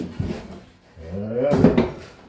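Salvaged wooden drawer halves pushed into a tight space, giving a short knock, then a longer scraping, sliding wooden rub that grows louder before easing off, close up with no talk.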